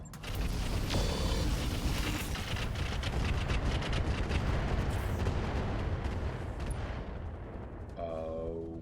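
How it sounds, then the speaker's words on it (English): Area-of-effect rockets exploding in the mech game RogueTech: a dense, continuous barrage of heavy booms and rumbling blasts that rolls on loudly for several seconds before briefly easing. "Let's send 2 more AoE rockets down there and give him hell."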